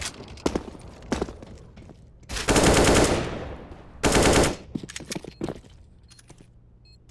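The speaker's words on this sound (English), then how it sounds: "Gets a few shots there from the Deagle." Desert Eagle pistol shots ring out during a Counter-Strike match, a few sharp single cracks and several longer heavy bursts of gunfire among faint footsteps and game noise.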